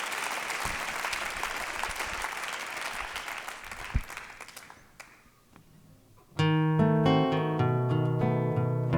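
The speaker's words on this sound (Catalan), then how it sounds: "Un aplaudiment per a ella." Audience applause for a guitarist and singer at a live concert, a dense burst of clapping that fades out around the midpoint before sustained guitar and music take over.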